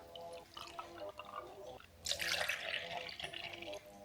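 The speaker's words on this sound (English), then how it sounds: "I'm gonna add 1 cup of almond milk" One cup of almond milk is poured into a blender for a strawberry smoothie, a close liquid glug and splash that swells into a louder rushing pour partway through, with no talking during the pour.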